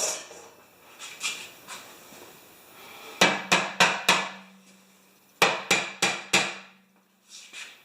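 Ball peen hammer striking a metal part during a mid-season snow machine check: a few light taps, then two fast bursts of about four ringing, sharp blows each, close and loud with a brief metallic hum between.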